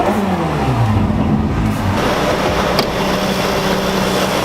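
Ferrari engine revving hard, the pitch climbing in a sweeping rise before dropping into a loud, steady growl, close and unaccompanied by talk.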